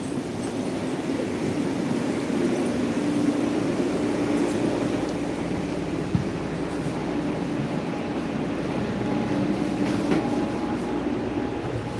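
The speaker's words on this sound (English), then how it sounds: "All right, we made it on the train." A passenger train rolls along the rails with a steady, close rumble and hiss from inside the carriage, broken by a single clack of the wheels midway.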